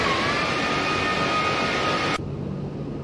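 An Airbus A330-300 P2F freighter jet rolls for takeoff in a flight simulator game in snow, with a steady loud engine roar and whine that suddenly drops to a quieter rumble near the end.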